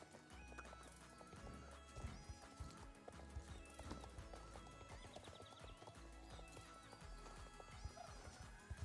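In the Star Stable video game, a horse gallops with steady clip-clop hoofbeats and whinnies over continuous game music, loud and close.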